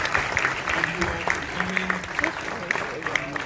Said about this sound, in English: Let's give a round of applause for Deymond